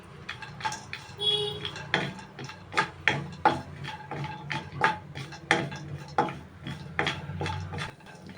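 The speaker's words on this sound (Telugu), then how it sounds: "ఇప్పుడు అదే నెయ్యిలో కొన్ని బాదం పప్పు కూడా ఇలానే ఫ్రై చేసుకుందామండి" Small almond pieces stir through hot ghee in a pan, with a spoon making regular wooden taps and scrapes about twice a second against a soft sizzle.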